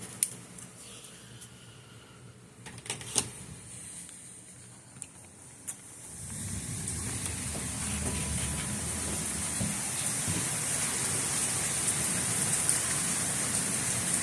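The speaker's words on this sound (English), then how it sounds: "You can hear the rain." Quiet room tone with a few soft clicks, then rain begins about halfway through and keeps up as a steady, moderate patter.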